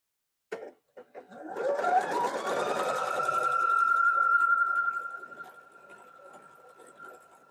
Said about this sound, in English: I think I've only done a straight stitch on this machine.